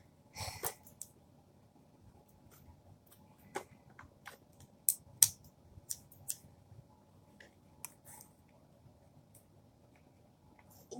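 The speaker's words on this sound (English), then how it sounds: "I got some scissors. Let's try and cut this." Scissors snip at the string and wrapping of a birthday present, giving several sharp, close cuts scattered over a quiet background with soft breathing between them.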